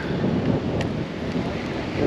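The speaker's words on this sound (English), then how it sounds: "Windy as hell out here." Steady, loud wind roaring across an open microphone at a fishing spot by a hatchery, a continuous low rumble with no pauses and faint water noise beneath.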